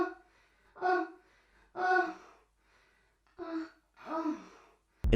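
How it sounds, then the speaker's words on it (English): Sampled female moans and deep breathing used as an a cappella vocal element in a hip-hop song, four breathy voiced moans with quiet gaps between them, close and fairly soft. "Just women's moans."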